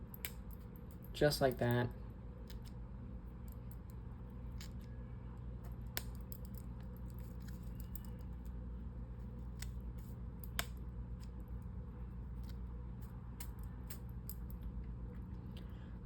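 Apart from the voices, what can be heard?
scissors trimming fly-tying material on an 8/0 rat fly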